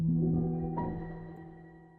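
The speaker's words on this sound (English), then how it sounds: "I got this ambience preset, and then it sounds like this with the piano" Piano notes run through an ambience preset from Unfiltered Audio Spec Ops, with sustained tones in a washy, reverberant tail; a fresh note enters midway and the whole sound slowly fades.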